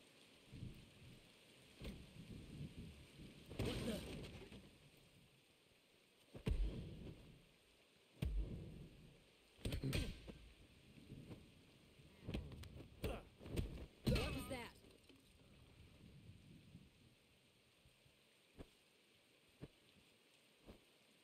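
Rainstorm in the game Sifu, a steady hiss of falling rain with intermittent louder rumbles and bursts of thunder, under occasional talking.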